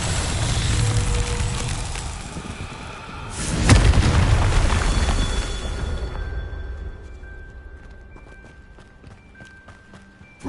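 A Confringo blasting curse detonates in Hogwarts Legacy on PS5: a loud boom bursts out amid ongoing game action, followed by rumbling and scattered effect sounds fading away.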